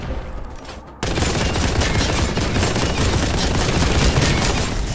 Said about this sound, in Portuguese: O sapão atirando na gente de lá de baixo